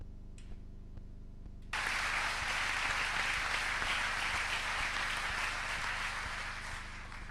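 Audience applause breaks out at a conference on safety and education in peace missions, rising suddenly after a quiet moment and holding as a steady, dense wash of clapping to the end.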